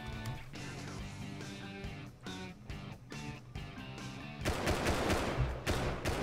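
Gunfire in the survival video game Rust, with a sniper among the shooters: a dense, fairly loud run of rapid shots and bursts that breaks off briefly around the middle, then resumes harsher and louder over a continuous game soundscape.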